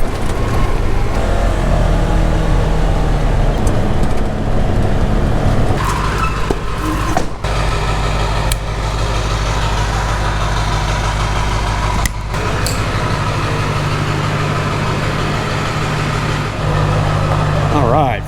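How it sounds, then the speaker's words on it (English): A vehicle engine rumbles loudly and steadily while pulling a farm trailer loaded with harvested vegetables onto the road, with occasional sharp knocks and rattles over the drone. "First trailer hitting the road."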